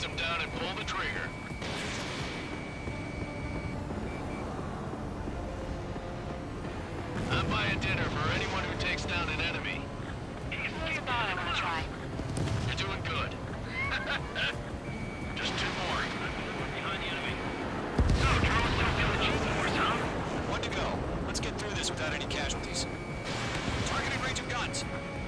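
Aircraft cannon bursts in the jet combat game Ace Combat 7, sharp repeated firing over a steady engine roar and dense game sound effects, with a voice speaking over the action.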